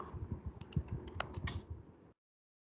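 Typing on a computer keyboard while writing code queries, a quick run of close clicks and taps over about two seconds, then silence.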